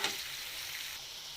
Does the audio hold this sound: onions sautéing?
yes